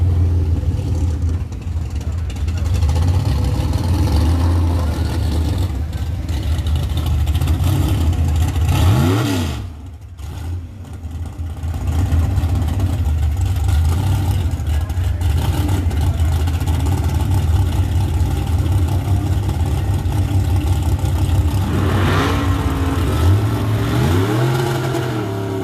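Drag racing cars at a Tri Five Nationals meet rev their engines hard and close by, a loud, sustained roar with rising and falling pitch sweeps and a brief dip partway through.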